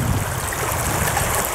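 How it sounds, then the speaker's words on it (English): A roaring river rushes steadily at close range, a dense, unbroken broadband wash of flowing water with no other sounds. "I'm just really having a hard time leaving this roaring river behind"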